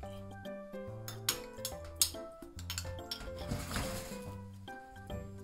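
A spoon mixes onion koji in a bowl, producing a run of bright clinks and ringing taps against the bowl's side, with soft wet squishing between the strikes.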